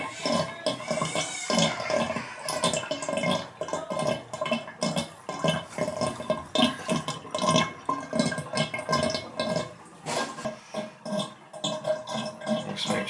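Water drains out of a bathtub under repair, a continuous gurgling, sloshing wash with irregular surges and splashes, close and moderately loud.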